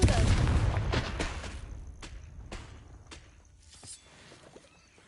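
A Confringo blasting spell from the Hogwarts Mystery video game goes off as a sharp burst that settles into a fading rumble, followed by a few quieter thuds and pops.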